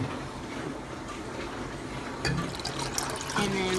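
Two cups of water pour into a pot on a stove burner set near high, a continuous gurgling splash that swells near the end while a voice speaks quietly in a home kitchen.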